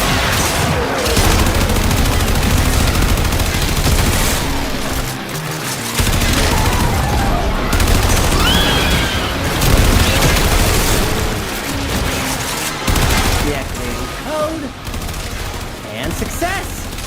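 Continuous gunfire from shooting spores off a health scrubber in the video game Warframe, dense and loud bursts filling the whole stretch over game sound, with people talking over it.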